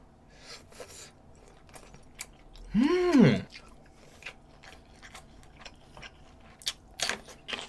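A short burst of close, wet chewing on sausage from budae jjigae (Korean army stew), a few squishy, chewy bites in quick succession, then quiet room noise with small clicks.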